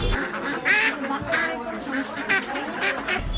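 A duck quacks repeatedly at a market where ducks are bought, with several loud, close quacks in an irregular rhythm over busy background noise.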